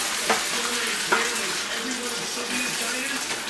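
A pan of sloppy joe mixture with onions and green peppers simmers steadily with a soft, continuous bubbling hiss. There are a couple of brief clinks or scrapes and faint movement now and then, and no voice.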